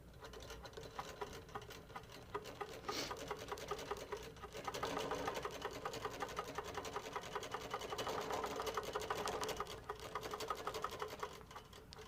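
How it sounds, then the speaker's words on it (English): A Moxie XL quilting machine basting down the sides of fabric, a steady rapid needle patter running continuously for about twelve seconds, close but fairly quiet, with no talk. "I'm going to baste down the sides just in my throat space."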